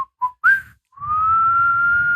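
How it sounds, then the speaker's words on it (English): A person whistles a single straight, sustained note after a few brief trial chirps, clear and close with no talking over it. "I can do a straight whistle."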